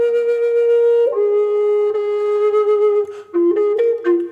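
Native American flute holds a sustained tone, then steps down one pentatonic minor note and lingers there with a few short ornamental flicks near the end, played solo and close.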